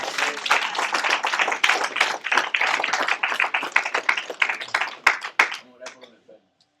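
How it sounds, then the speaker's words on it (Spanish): Church congregation clapping during an evangelical Spanish-language service, a burst of uneven claps filling most of the stretch with loud voices calling out over it, then tapering to quiet at the end. "Dale un aplauso a Cristo."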